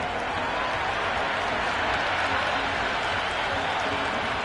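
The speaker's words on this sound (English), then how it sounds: "The crowd are really getting quite raucous." A large cricket crowd in a PlayStation game of a women's T20 match, India vs England, roars and cheers continuously, a dense, loud wash of noise that stays steady throughout.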